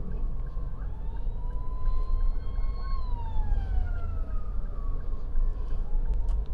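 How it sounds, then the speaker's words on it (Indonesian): A wailing ambulance siren sweeps up and down in long tones as it passes on Indonesia's Pantura highway, over a steady low rumble of road traffic. "Oke, kita kasih lewat ambulan dulu."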